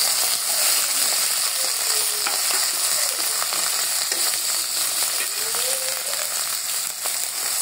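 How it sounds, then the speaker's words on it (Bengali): Turmeric, salt and chili powder fry with cabbage and fish tail in a pan, giving a loud, continuous close sizzle with faint stirring scrapes and no talk. "এখন হলুদ, লবণ আর একটু মরিচের গুঁড়া এগুলো আর কি দিয়ে ভালো করে একটু কষাতে হবে।"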